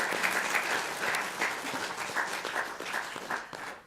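A lecture audience at a university public talk in Wrexham claps together in a steady burst that tapers off toward the end, with no speech over it.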